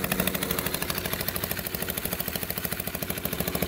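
A small mini UTV engine idling steadily just after an electric start, with a rapid, even putter close by and fairly loud throughout, no talking.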